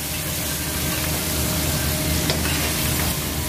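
Ham and bacon fry golden brown in a pan, giving a dense, even sizzle and crackle held at a steady level close by, with no voices.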